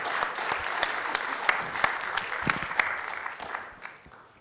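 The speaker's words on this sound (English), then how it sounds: "So keep that round of applause going" An audience at the ShmooCon 2024 security conference applauds a talk on security architecture mistakes, sustained crowd clapping with crisp individual claps standing out, holding steady then tapering off toward the end, heard alone.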